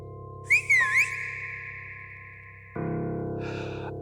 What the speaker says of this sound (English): the whistling got louder